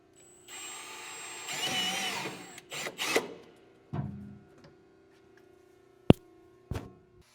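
Power drill boring through the chute hole of a 44-inch Deere snow blower, a close whirring run of a few seconds followed by short bursts and sharp clicks, then quiet.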